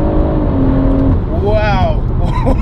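A BMW M140i with a Litchfield Stage 2 tune, rated 450 bhp, accelerates hard from inside the cabin, its engine note rising loud and close beneath voices talking over it.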